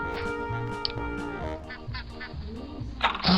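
Honking, quacking waterfowl calls from a duck in the Mini Block Craft video game, repeated over a steady backdrop of game music, with a louder burst of calls near the end.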